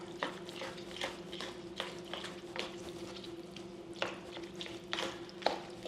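Leftover pizza pasta being stirred and mixed in a bake dish, soft repeated scraping and squishing strokes at an even pace, close and quiet with a low steady hum underneath.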